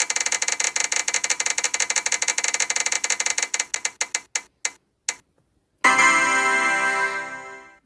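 A spinning prize wheel clicks rapidly against its pointer, the ticks slowing and spreading out as it winds down to a stop, followed by a brighter ringing chime.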